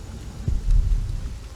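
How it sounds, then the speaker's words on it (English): Rain and a low rumble of thunder in The Pillars of the Earth video game, a soft steady hiss of rainfall with a deep roll swelling briefly near the middle, no voices. "Soaked by rain."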